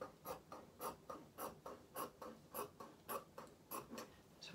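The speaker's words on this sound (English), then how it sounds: "So I'm just going to cut this piece out." Scissors cut through a fabric waistband piece for a doll's kilt, a quiet, regular run of about a dozen crisp snips, close and faint with no talking.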